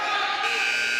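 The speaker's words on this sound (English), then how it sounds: "At the buzzer." A basketball game buzzer sounds at the end of a possession, its steady, loud electronic tone filling the clip over crowd noise.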